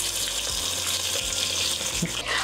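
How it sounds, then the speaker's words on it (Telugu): Water poured into a cooker pot of fried oil-brinjal curry seasoned with mustard seeds, cumin and fenugreek, a steady close rushing splash with sizzling underneath, continuous for the whole span. "నా చేతిలో ఉన్న మసాలా కూడా వేస్ట్ అవ్వకుండా నీళ్ళు వేసాను"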